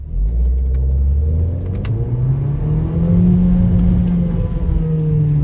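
Renault Clio 4 RS Trophy 220 hp engine revs hard while the driver holds the brake, a loud, close, throaty drone that climbs and holds in pitch for several seconds with no talk.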